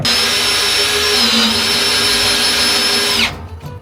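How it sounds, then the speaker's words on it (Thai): A power drill drives a screw into a steel beam fixed to a Honda S500 during restoration. It gives a loud, close, steady high whine for about three seconds, then stops abruptly. "เราก็ สามารถเอาสกรูยิงเข้ากับเหล็กที่เรายึดไว้ได้เลยนะ"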